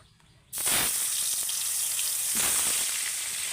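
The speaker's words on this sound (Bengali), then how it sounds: "একই তেলের মধ্যে আমি আলুগুলোকেও ভেজে নেব" Potatoes drop into hot oil for egg biryani, bursting into a sudden loud sizzle after a quiet moment, then frying steadily at close range.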